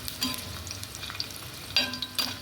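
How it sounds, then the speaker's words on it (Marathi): Garlic and spices roasting in a pan for a chicken kala masala, giving a soft steady sizzle with a few brighter crackling bursts and stirring scrapes, close and fairly quiet, with no talking. "लसूण टाकते हे सर्व भाजून घ्यायचं"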